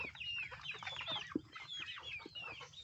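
A jungle fowl hen clucks repeatedly in an outdoor free-range yard, mixed with busy chirping of other birds; the calls come at moderate distance with no one speaking.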